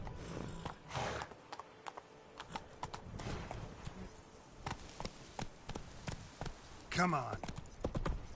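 Hooves of the horse Roach clip-clop in The Witcher 3, a gait that slows and speeds unevenly, with a brief whinny near the end and someone talking over it.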